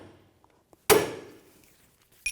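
A single sharp metallic tap of a hammer on a punch against a 2013-2019 Ford Escape tie rod end stud, ringing and decaying, then a faint second knock, in a quiet garage.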